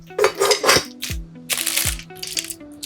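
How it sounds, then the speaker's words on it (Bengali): Dry turmeric pieces, 1000 grams, tipped into the steel jar of a high speed mixer grinder, giving several bursts of hard clattering and rattling rather than a steady stream, close and fairly loud. "হলুদটুকু আমরা সব দিয়ে দিচ্ছি"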